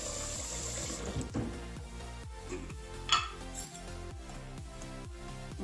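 Water is stirred in a bowl to mix hot with cold, giving a steady series of rhythmic sloshing strokes with light clinks of utensil against the bowl, close and fairly quiet.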